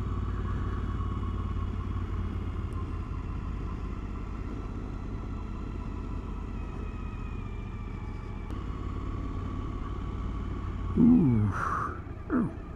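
A Suzuki V-Strom 1000 motorcycle with a slip-on exhaust rides downhill, its engine a steady low drone under wind noise, then a few clattering knocks near the end.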